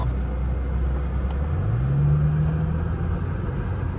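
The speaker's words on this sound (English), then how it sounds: "Really smooth power from the V12." A 2003 Aston Martin DB7 V12 engine running steadily, a smooth low rumble with a brief rise in pitch midway, close and continuous throughout with no talking.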